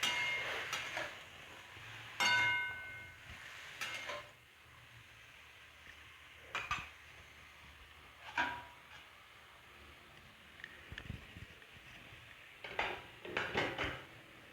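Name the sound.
stirring bottle gourd in a pan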